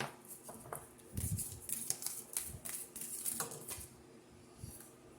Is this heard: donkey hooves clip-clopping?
no